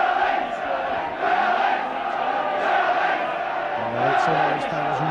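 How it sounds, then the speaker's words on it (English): St Helens rugby league fans in a 1997 club match against Leeds Rhinos, a broad, sustained crowd roar with shouting, heard at a distance beneath a commentator's voice. "St Helens fans really cheering them"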